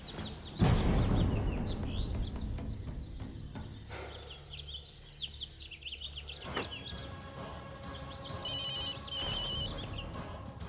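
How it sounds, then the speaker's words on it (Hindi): A telephone rings repeatedly and goes unanswered, its electronic ringtone bursts standing out over a busy background with birdsong and occasional knocks, moderately faint. "मीना फोन क्यों नहीं उठा रही?"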